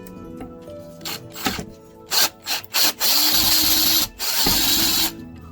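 Several short whirring bursts from a power drill, then a longer sustained run, loud and close, ending with a brief final burst.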